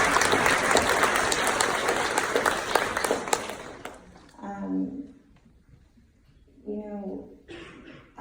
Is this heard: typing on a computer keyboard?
no